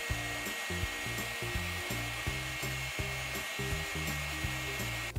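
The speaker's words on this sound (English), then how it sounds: "Taking my heat gun, we're going to use it to cure the clay." A heat gun blows steadily on polymer clay pieces for a custom pony figure, giving a continuous close whirring hum with a faint rhythmic rubbing pattern running underneath throughout.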